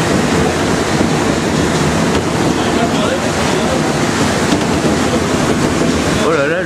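An MP59 rubber-tyred train on Paris Metro line 11 rattling and shaking through curves, a loud, continuous roaring rumble heard from inside the car with steady wind-like noise throughout.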